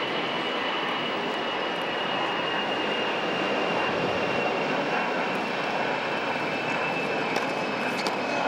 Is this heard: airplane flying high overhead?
yes